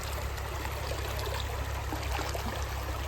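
Cold river water rushes and trickles steadily as someone wades across over slippery, algae-covered stones, a constant close splashing flow with no talk.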